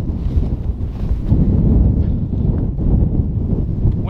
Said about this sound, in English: Wind's already taking it.